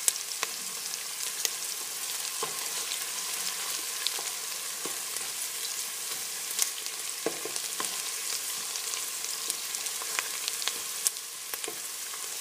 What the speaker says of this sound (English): we don't really want to brown the onions and the garlic. You want to keep stirring them. And the olive oil like that.